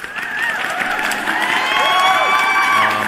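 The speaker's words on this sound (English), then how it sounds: "Let me give you guys a round of applause." A crowd cheers and whoops with some applause, shouts and whistles overlapping in a steady, lively burst at close range.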